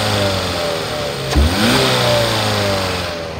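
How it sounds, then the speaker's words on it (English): A 2008 Ford Escape's engine idles steadily, then jumps into a quick rev around midway, its pitch climbing and holding before settling back toward a smooth idle, heard up close with no talking. "I'm gonna rev it up so you can hear the motor."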